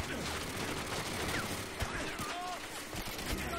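Rapid video game gunfire crackles as a dense, continuous barrage with a few sharper bursts, steady and fairly loud throughout, with a voice talking underneath.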